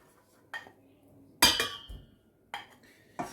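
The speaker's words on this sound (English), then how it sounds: "we're going to add into a pan now the unsalted butter" A few clinks and knocks of a utensil and pan as unsalted butter goes into a pan, with scattered separate metallic taps over a quiet kitchen background.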